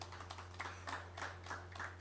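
A small audience claps at a health event, a scattering of light, uneven hand claps from a few people, faint and somewhat distant over a steady electrical hum.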